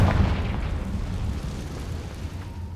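A Confringo fire-blast spell explodes in a Harry Potter video game, a loud, deep booming burst that rolls into a sustained rumble with no pause.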